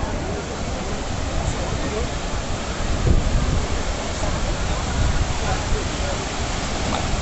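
Sea surf at Praia do Forte beach in Cabo Frio roars as a continuous broad wash, with wind buffeting the microphone on a crowded shore.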